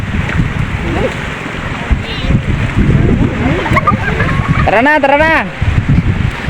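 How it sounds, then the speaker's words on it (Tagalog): Strong northeast monsoon wind buffets the microphone by the sea in Palawan, with gusting roar, splashing water and sloshing waves throughout, while people talk and call out over it. "Uwi na kami kay malakas ang amihan."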